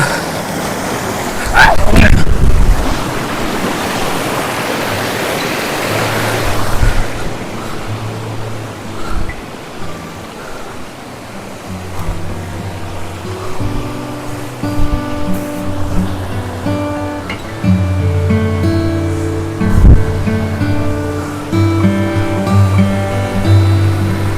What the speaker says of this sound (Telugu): వాటర్ కూడా చాలా స్పీడ్గా ఫ్లో అవుతుంది